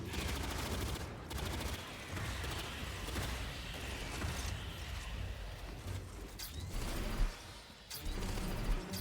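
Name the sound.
gunfire in video game Aliens: Fireteam Elite 2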